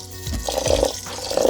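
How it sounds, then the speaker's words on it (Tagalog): Sweet rice is washed in water, giving a few short splashes and sloshes, close and moderately loud, with brief pauses between them. "huhugasan lang po ang inyong sweet rice"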